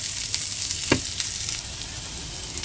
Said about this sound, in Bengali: এখানে আমি একটু চিকেনটা ভাজি করছি।